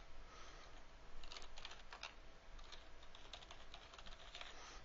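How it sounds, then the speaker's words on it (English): Typing on a computer keyboard, quick irregular clusters of light key clicks, close but fairly quiet, continuing for several seconds without talk. "this time we're going to type"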